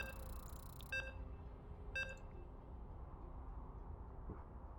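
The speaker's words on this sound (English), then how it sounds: "And you can hear the beeps." Two short electronic beeps sound about a second apart over a low steady hum, then only the hum continues, as a StarCraft 2 tournament match loads.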